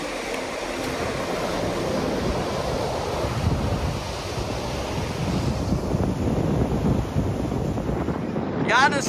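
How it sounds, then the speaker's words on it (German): Ocean waves roll onto a beach in Albania in a steady, loud wash of surf, mixed with gusty wind buffeting the microphone throughout. "Die Wellen kommen weiter rein hier"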